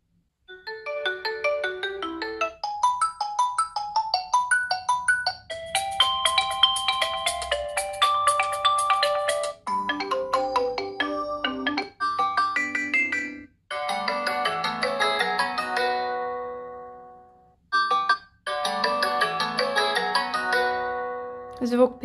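A Redmi Note 8 phone loudspeaker plays a bright, melodic ringtone, a clear sequence of ringing synthesized phrases with short pauses between them, loud and close.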